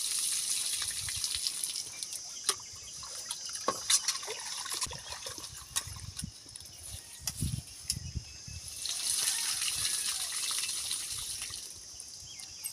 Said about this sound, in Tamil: அரிசி நல்லா கழுவியாச்சு